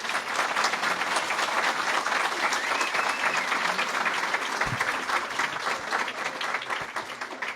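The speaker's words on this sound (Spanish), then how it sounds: "Un aplauso." An audience at a book launch for a local history of El Tabo, Chile, applauds in a dense, sustained burst of clapping that fills the room, steady throughout with a few louder claps near the end.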